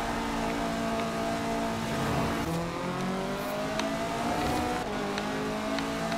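A KTM X-Bow GT4 race car in Forza Horizon 4 is held at full throttle through winding roads. The engine drones loud and steady, its pitch rising and dipping with gear changes, alone with no talk.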